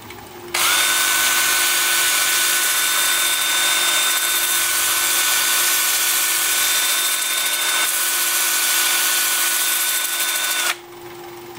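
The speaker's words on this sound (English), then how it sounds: "I'm going to be sanding with my 2-inch sanding disc starting at 120 grit." A 2-inch 120-grit sanding disc spins against a wooden pear turning on a lathe in reverse at about 350 RPM, giving a steady, loud whirring drone that runs unbroken before cutting off.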